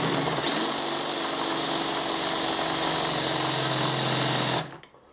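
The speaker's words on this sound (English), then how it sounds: "I'll line my drill up by eye and just gently" A steady, high-pitched whine of a power drill running continuously, loud and close, then cutting off near the end.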